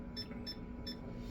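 An auto edging machine flags an input error with three short electronic beeps, evenly spaced and fairly faint over a steady machine hum.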